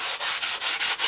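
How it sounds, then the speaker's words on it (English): A sanding board is rubbed back and forth along the edge of a model aircraft fuselage, a Warbirds Replicas FW190 kit, giving about six close, rhythmic rasping strokes with brief pauses between them. "I'll just take my sanding board there and just sand that"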